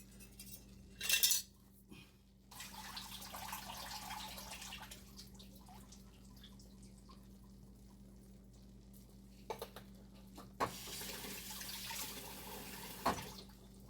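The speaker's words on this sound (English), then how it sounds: "We're gonna drain that corn." Liquid from a can of corn draining into a strainer or sink, a soft steady trickling wash running for several seconds, with a few clinks of metal and dishes at the start and near the end.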